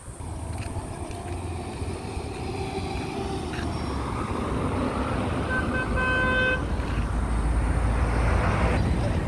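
Traffic on the road in front of a house rolls past in a steady loud wash of engines, with brief car horn toots in the middle.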